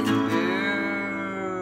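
A singer imitates a cow mooing in a children's farm song, a single drawn-out, loud, close "ooh" moo sliding slightly and lasting under two seconds.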